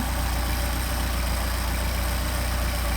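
Mercedes 190SL engine running on Solex 44PHH carburetors, a loud, steady idle with an even low throb and rough mechanical clatter, unchanging across the clip and with no talk.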